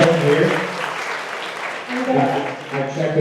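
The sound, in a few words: audience applause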